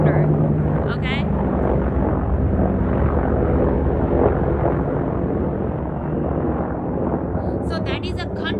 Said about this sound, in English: check this out, military helicopter